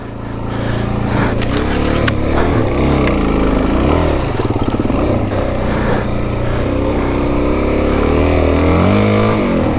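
Suzuki DRZ dirt bike tearing through muddy woods at night, its engine loud and close, revving continuously with rising and falling pitch for the whole stretch.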